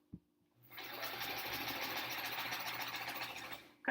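A sewing machine stitches a large border onto a sampler quilt, a steady mechanical whir running for about three seconds after a soft click, then stopping with another click.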